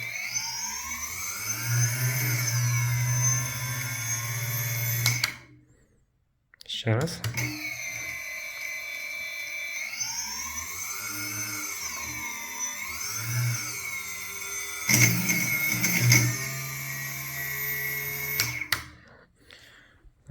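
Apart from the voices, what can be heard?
motors of a homemade FPV drone spinning up with throttle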